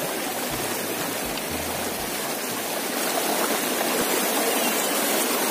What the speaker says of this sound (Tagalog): Hindi malakas yan yung tubig kasi umulan ngayon sa bundok.